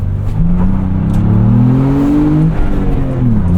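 Steady interior drone of a 2025 Ford Bronco Big Bend Sasquatch with 7-speed manual, low engine hum and rushing road and wind noise, continuous and fairly loud throughout.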